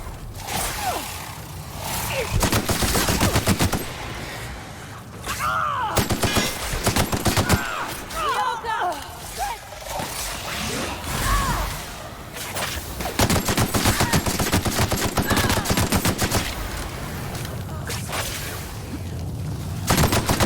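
Sustained bursts of rapid gunfire from a shooter video game, The Outer Worlds, firing on and off for about twenty seconds, loud and dense with brief pauses and mechanical weapon clatter between volleys.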